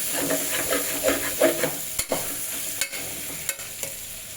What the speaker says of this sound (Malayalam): എല്ലാം ഇതിനെ കിടന്ന് നല്ലപോലെ എണ്ണയിൽ ഇങ്ങനെ നല്ലപോലെ ഫ്രൈ ആവണം